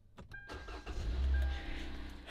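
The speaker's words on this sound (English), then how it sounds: "Engine roar." A car engine cranking and catching after a battery replacement, a brief starter whir building into a loud close rumble that settles toward idle.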